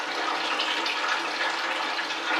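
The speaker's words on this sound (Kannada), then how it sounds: "ಸ್ವಲ್ಪ ನೀರು ಹಾಕ್ಕೊಬೇಕು ಚಟ್ನಿ" Water streams steadily into chutney being prepared for South Indian lemon rice, a continuous bright splashing pour, close and even, with no talking.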